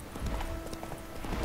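Horse hooves clip-clopping at a steady trot in The Witcher 3 video game, a quick rhythmic run of soft thuds at moderate volume without speech.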